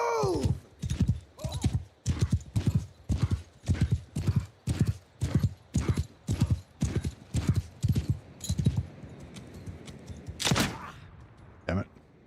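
Horses gallop in a video game, a rapid, regular thudding of hooves repeating for about ten seconds, loud and close, with a whinny and sharper game sounds near the end.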